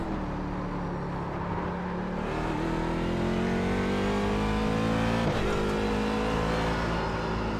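A race car engine in iRacing drones loud and close, pitch climbing steadily through the gears with a brief shift dip before rising again, no voices over it.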